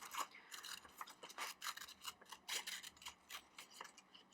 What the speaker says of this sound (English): I'm going to take my scissors and I'm going to cut it out around the outer